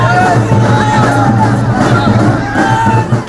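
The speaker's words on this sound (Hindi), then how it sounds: "सामने बीजेपी का झंडा लिए जोश से भरी भीड़ थी।" Loud, dense hubbub of an enthusiastic crowd of BJP supporters waving flags at a roadside election campaign welcome in Asansol, with continuous overlapping voices, occasional shouts and a steady low drone throughout.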